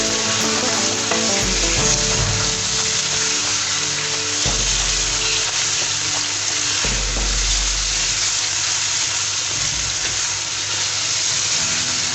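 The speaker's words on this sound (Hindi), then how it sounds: "जो हमने जिंजर गार्लिक पेस्ट डाला है वो बस हमने चिकन में अच्छे से मिलाना है" Chicken with ginger garlic paste sizzles steadily in a karahi for a Shinwari karahi, with a constant loud frying hiss and periodic scraping thumps as it is stirred.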